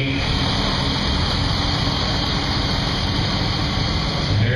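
A BF Avery Minneapolis tractor engine runs steadily and loudly at an antique tractor auction ring in November 2013, a continuous idling drone with crowd noise underneath.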